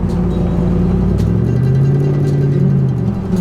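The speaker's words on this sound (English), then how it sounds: "Exhaust sounds good." A Chevrolet Trailblazer SS engine rumbles loudly and continuously, its exhaust note rising and falling as it revs, with no talking.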